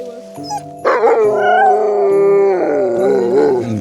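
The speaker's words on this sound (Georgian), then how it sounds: "ვაუ, ჰასკების ფერმაში მოვედით." Several huskies at a husky farm in Lapland howl together close by, long wavering howls rising and overlapping with whimpers and yips, continuous and loud.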